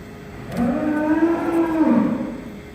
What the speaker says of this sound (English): You can hear that noisy cow in the background.